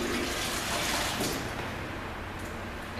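Boiling hot water poured for oven cleaning, a continuous loud rushing splash of liquid that eases slightly toward the end.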